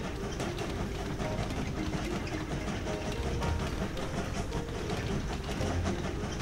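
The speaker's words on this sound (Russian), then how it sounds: "Так, синий поезд запускаем. Пусть сюда он у нас едет." A blue train runs along its track in the puzzle game Train Valley, a steady game-engine rumble and rattle with faint clicking, continuous and even throughout.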